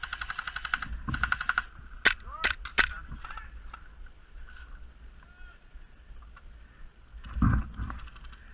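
Airsoft guns fire during an outdoor game, with rapid bursts of light rattling shots, several sharp single cracks, and a later burst of rapid fire, all close and fairly loud with faint voices around.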